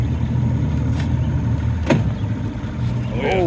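A small fishing boat's outboard motor idles in a steady, close, low rumble on the water while limb lines are checked, with a brief knock and a faint squeak over it; talking can be heard.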